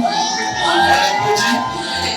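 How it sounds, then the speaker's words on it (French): Crowd at a celebration cheers and claps for a couple, a lively wash of voices and shouts with some clapping mixed in, fairly loud and continuous. "Le couple est là, on applaudit."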